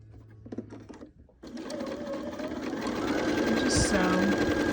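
A sewing machine stitches quilt pieces, starting after a brief pause and running in a steady, continuous whir close by, with a person's voice briefly at the start.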